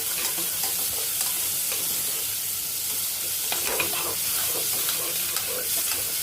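Chopped onions frying in hot oil with cumin over a high flame for jackfruit sabzi: a dense, continuous sizzling hiss with scattered crackles and stirring clicks, close and loud throughout.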